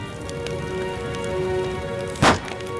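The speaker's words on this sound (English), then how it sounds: "Eventually, the structure of the bamboo breaks down, it explodes" Bamboo bursting in a fire: one sharp crack stands out over a steady low crackle and hum, brief and moderately loud.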